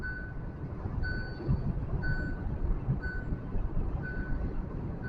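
Inside a 2022 Hyundai i20 N Line with a DCT gearbox at high speed, a speed warning chime beeps about five times at a regular pace of roughly one per second over loud, steady road and engine rumble.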